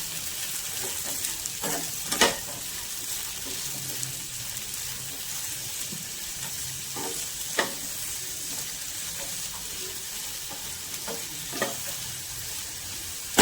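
Sago pulao sweetened with jaggery cooks in a pan with a soft, even bubbling sizzle, broken every few seconds by quiet knocks and clinks of stirring.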